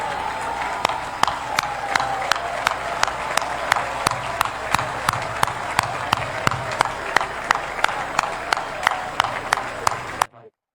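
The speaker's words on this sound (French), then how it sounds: "je vais vous prier une fois de plus de vous lever et d'applaudir pour le président Yahya Mohamed." An audience at an inauguration ceremony applauds steadily in a dense wash of clapping that holds for about ten seconds, with sharp rhythmic claps standing out in front, then cuts off abruptly.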